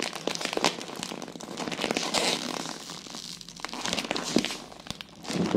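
Crinkly candy wrapper from a children's sweets haul being torn and crumpled open up close, with dense, irregular rustling and crackling throughout, fairly quiet and without talk.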